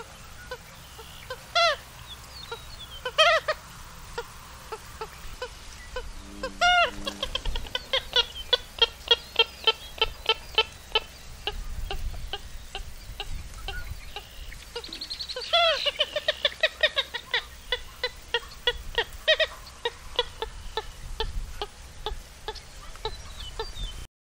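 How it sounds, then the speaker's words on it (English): Purple gallinule calling in Florida: a run of sharp, clucking, cackling notes in irregular bursts, fairly close and moderately loud, with a few louder accented calls. "Here's the call of the purple gallinule."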